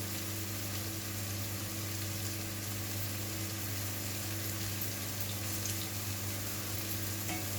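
Crushed tomato sizzles gently in a pan with courgettes, a soft continuous frying hiss under a steady low hum, fairly faint and without talk.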